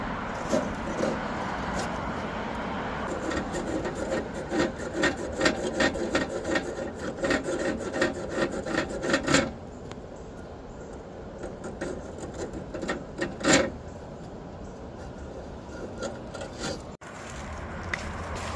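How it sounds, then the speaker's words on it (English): Sanding cloth scrubbing a gas lantern's flame sensor in rapid, raspy strokes, faint and close, with pauses and a few sharper scrapes toward the end. "I'm gonna try to clean off this flame sensor with some sanding cloth here"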